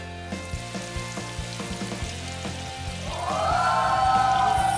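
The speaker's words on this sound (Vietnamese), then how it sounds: "Lăn viên thịt hấp qua bột chiên giòn và thả vào chảo ngập dầu." Breaded steamed frog meatballs drop into a pan of deep oil, with a few soft rhythmic knocks first and then a loud, steady bubbling sizzle that swells and holds to the end.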